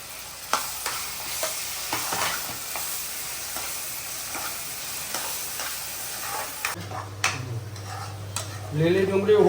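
Green onion and green garlic fry in a pan, giving a crackling sizzle with repeated ticking stirs. Partway through, a low steady hum joins in, and a voice briefly speaks near the end.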